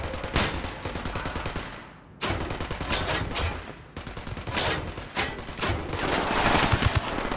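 Dense, sustained automatic gunfire in the video game Ghost Recon Wildlands, loud and continuous with two brief silent gaps, bursts layered with rattling shots and in-game noise.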